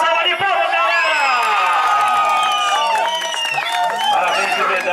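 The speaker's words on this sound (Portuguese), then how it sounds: "Uma salva de palmas, galera!" A lively crowd at a romantic birthday celebration cheers and whoops, with high shouting voices layered over clapping in a loud, continuous burst.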